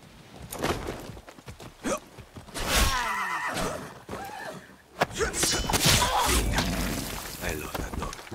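A horse in the video game Far Cry 6 whinnies loudly over clip-clopping hooves and other game noise, with a second neigh following, while a player talks at times.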